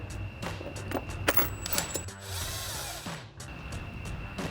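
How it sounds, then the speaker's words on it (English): A cordless impact wrench with a 13 mm socket runs in bursts while tightening bolts on RedRock PNC side step bar brackets for a 2024 Toyota Tacoma, close and fairly loud with a steady mechanical whir. "Then we'll grab our 13 mil socket on our impact and tighten these down."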